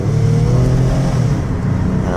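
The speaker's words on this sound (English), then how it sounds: "I want you to hear the engine run hard" A 2016 Toyota Sienna L wheelchair mobility van with about 61k miles, engine revving hard at highway speed, a loud steady drone with rising and shifting engine tones and no talk over it.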